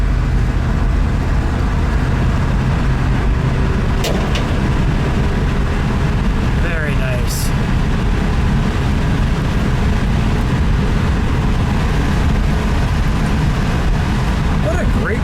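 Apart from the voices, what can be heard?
1973 Ford Maverick 302 V8 engine running while driving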